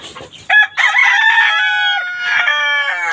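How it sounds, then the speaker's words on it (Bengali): A Polish cap rooster crows loudly and close by in one long drawn-out call, with a few short clucks at the start and no talking. "এই যে এগুলো হচ্ছে সিল্কি মুরগি"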